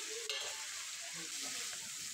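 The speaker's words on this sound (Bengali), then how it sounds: "এবারে আলু বেগুন আর বাটা মাছ ভাজাটা দিয়ে দেব।" Potatoes, brinjal and fried bata fish going into sizzling, oil-released spice paste in a pan, giving a steady close hiss of frying with a brief clatter early on.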